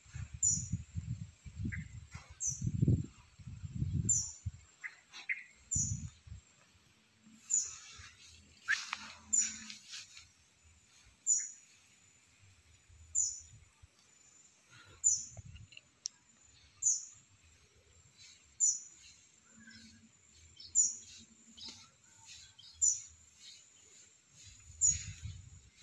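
A tiny, very young bird calls for its mother with thin, high chirps repeated every second or two. The chirps sound close and faint, and some soft handling rustles come early.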